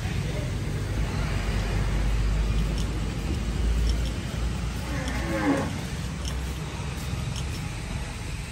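Cattle moo during the unloading of a huge, heavy bull at an agro farm, with a prominent low moo midway over a steady engine rumble and background voices.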